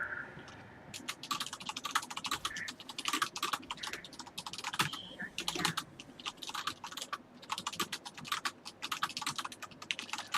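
Rapid, uneven clatter of fingers on a computer keyboard during a League of Legends game, with bursts of close keystrokes and brief pauses and no voices.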